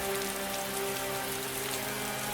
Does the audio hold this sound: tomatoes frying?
no